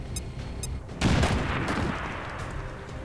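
A grenade goes off in the turn-based strategy game XCOM 2: a sudden, loud, broad blast that strikes after a quieter lead-in and then rumbles on as a dense, slowly fading roar.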